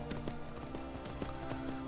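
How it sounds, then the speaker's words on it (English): Horse hooves clip-clop in Skyrim as a horse climbs a mountain, a quick irregular series of hard hoof knocks over a steady game background, fairly quiet and close. "Mountain climbing horse."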